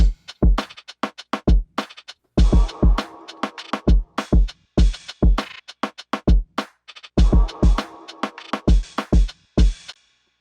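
A lively drum loop with clap, rim shot, crash, noise impact and small percussion hits plays loud and close in a punchy repeating groove, brief gaps separating the two-bar phrases.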